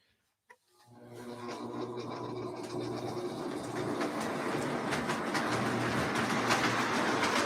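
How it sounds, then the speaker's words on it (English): A small K-Line model switcher engine starts after a click, its motor whir and rail clatter swelling to a steady, close hum and rattle that keeps building slightly. "Just gonna run a little switcher engine."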